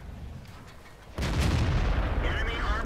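Tank cannon shot in a tank video game: a sudden heavy boom striking a Churchill tank, followed by a sustained rumbling roar and crackling debris, after a quieter stretch with faint background noise.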